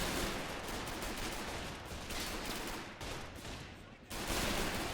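An MG42 machine gun fires in a World War II street battle in the Men of War: Assault Squad 2 video game, a dense, continuous rattle of rapid shots with other gunfire mixed in, loud throughout with a brief dip near the end.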